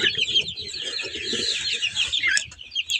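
A broody Kuchin hen clucks in a low, continuous, throaty stream, close and fairly loud, with a higher raspy tone running steadily over it.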